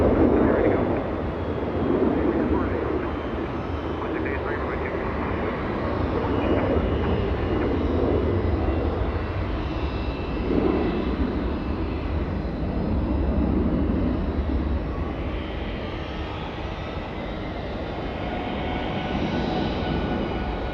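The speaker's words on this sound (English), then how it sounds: "Singapore Airlines cargo depart in the south." A Singapore Airlines cargo plane departing from Los Angeles International Airport under low cloud sends out a sustained, rumbling jet roar that swells and eases, with a voice talking intermittently over it.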